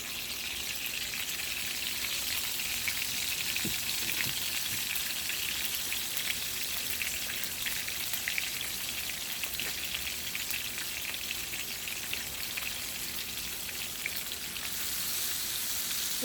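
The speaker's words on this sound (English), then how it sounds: "We let this saute" Fish for curried fish sautés over medium heat in a pan, giving a steady, close sizzle and crackle that runs unbroken and fairly loud, with no talking.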